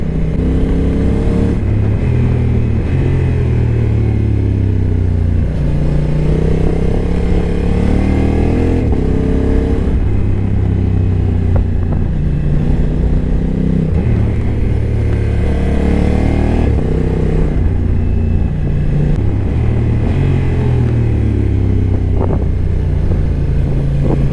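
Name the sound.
Honda NT 1100 motorcycle riding on a curvy road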